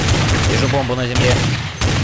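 Rapid gunfire bursts from Counter-Strike 1.6 on the de_eldorado map during a bot match, loud and close, with several sharp shots at the start and end and a short voice in the middle.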